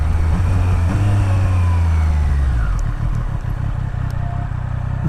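A 2023 Triumph Street Triple RS motorcycle in track mode accelerates hard with a loud, close engine roar whose pitch climbs and then shifts as it changes gear. The engine runs steadily throughout.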